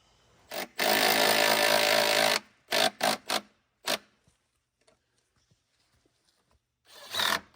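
Power tool cutting through wood while trimming a section off a DIY stone archway entrance gate project: one long loud burst of buzzing saw noise, then several short cuts, followed by quiet and a final short burst.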